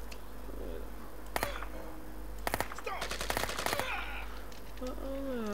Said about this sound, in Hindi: अंधी फायरिंग कर रहे हो बस